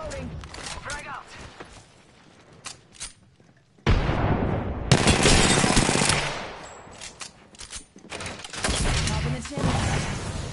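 Console shooter firefight with a frag grenade thrown, bursts of rapid gunfire and a loud blast partway through, close and dense, with a player's voice talking between the shots.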